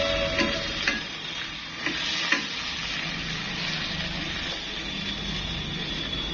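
Onion puree fries in a pan for a mushroom masala curry, giving a continuous sizzle with a few scraping stirs and clicks early on, close and steady without speech.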